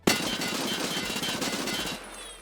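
Automatic gunfire from a gun in Escape From Tarkov, from a low-tier trader build, rattles out as one rapid, unbroken, loud burst lasting about two seconds before it cuts off.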